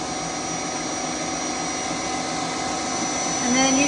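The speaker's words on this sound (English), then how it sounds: "you can hear the machine kind of bog down" A machine churning raw milk into butter runs as a steady, loud motor whir, with its pitch shifting near the end as it bogs down under the thickening load.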